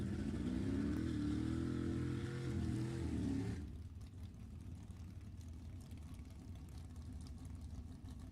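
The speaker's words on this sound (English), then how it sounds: "I see one more motorcycle." A motorcycle at a drag racing raceway in Sacramento revs hard with a rising engine note for a few seconds, then cuts off abruptly, leaving quieter background rumble.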